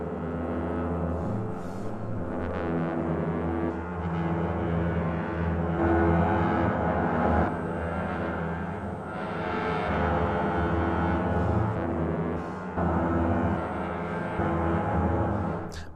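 Low brass players sound sustained lip bends, recorded on a close microphone, with dense, rich low tones swelling and sliding and audible breathing noise between phrases.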